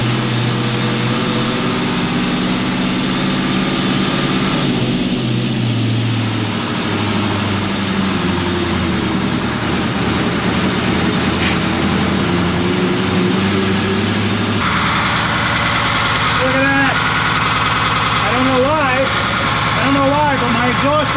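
A rescued 1981 International Harvester snow plow truck runs with a heavy, low engine rumble that continues steadily throughout, while someone talks over it and the truck lurches along without power steering and with sparks coming from its exhaust.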